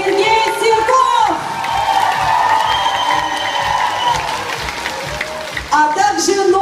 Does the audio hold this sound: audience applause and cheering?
yes